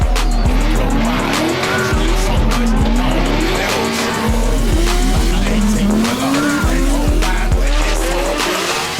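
A race car drifts hard around a track on a first drive at a Drift Masters event, its engine revving in a wavering drone while the tires squeal and skid continuously, loud and close throughout.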